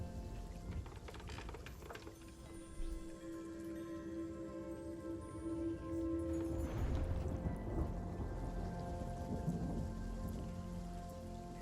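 A storm pours heavy rain onto surfaces in a dense, steady hiss, while a deep roll of thunder swells partway through and rumbles on under the downpour. No one speaks.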